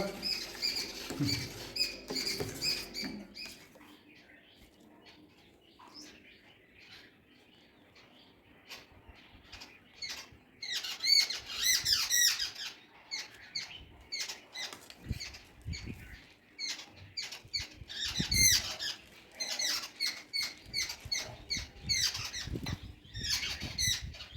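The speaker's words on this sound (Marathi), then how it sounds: "चिमण्या आल्या" Sparrows chirp and flutter outdoors near papads drying in the sun, with bursts of quick chirps and soft wing patter coming and going, some close and some farther off.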